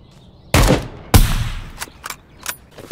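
Short bursts of gunfire from an enemy scav in the video game Project Delta, two loud close shots followed by several fainter, scattered shots, with no talking.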